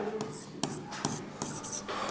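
Pen writing out a trigonometry answer by hand, a soft continuous scratching with a few sharper taps as strokes begin, close and quiet with no talking over it.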